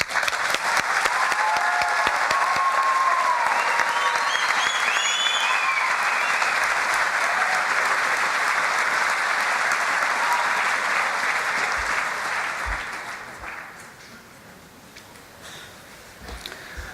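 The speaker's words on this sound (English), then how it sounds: "I would like now to invite the graduates of the Bachelor of Business in Hotel and Catering Management to stand so we may now applaud your achievements." A convocation audience applauds Bachelor of Business in Hotel and Catering Management graduates in a large hall, with loud, sustained clapping and a few whoops that fade out near the end, leaving scattered claps.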